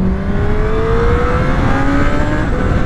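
Honda CB1000R motorcycle engine pulling from 4000 rpm, a loud continuous whine with its pitch rising steadily as it accelerates, under rushing wind noise and without speech.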